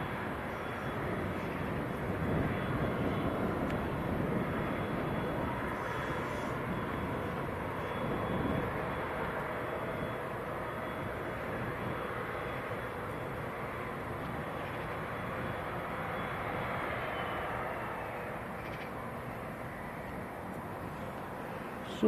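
A German Pilatus PC-24 jet on approach to Leeds Bradford airport makes a steady, distant roar that holds for a long stretch and fades slightly near the end.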